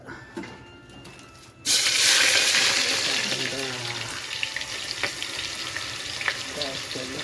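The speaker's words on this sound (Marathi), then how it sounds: "आईस तेल गरम झालेलं आहे आपण याच्यात टाकूया" Food hits hot oil and bursts into a loud, steady sizzle after a quieter opening, the frying crackle continuing close and strong to the end with faint voices in the background.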